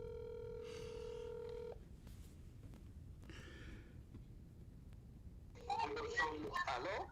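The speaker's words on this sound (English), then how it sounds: "The phone is ringing." An outgoing phone call rings on the line: a steady ringback tone for under two seconds, then quieter line noise and a burst of tones near the end, faint and without talk.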